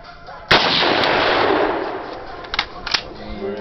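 A single loud rifle shot, from a .30-06 or Mosin Nagant, cracks close by and echoes away, followed a couple of seconds later by a few fainter, sharper pops.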